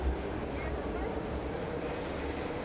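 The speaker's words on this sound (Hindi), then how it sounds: "मेट्रो हर 30 सेकंड बाद मेट्रो आती है" A São Paulo metro train arrives at a three-level station with a continuous low rumble, and a high wheel squeal rises toward the end.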